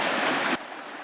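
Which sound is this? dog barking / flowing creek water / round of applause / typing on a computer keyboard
flowing creek water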